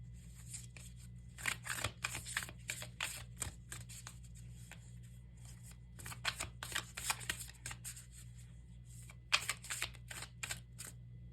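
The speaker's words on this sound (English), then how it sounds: "So let's pull some cards from the Oracle." Oracle cards are shuffled and drawn during a tarot reading, giving crisp papery riffles and snaps in three busy bursts, with a quiet low hum in between and no talking.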